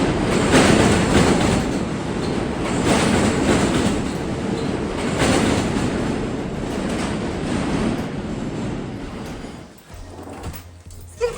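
A Manhattan subway train rumbles and clatters along the rails, loud and continuous with rhythmic clickety-clack, easing off toward the end as it slows and quiets.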